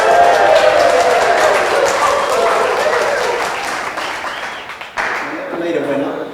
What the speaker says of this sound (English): Give a cheer for the Brisbane Lily.